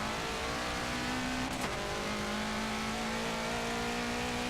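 A VW Type 3 sleeper car with a 700-plus horsepower engine in Forza Motorsport 7, its engine droning at a steady pitch with a sharp whine in the middle, bogging down under acceleration.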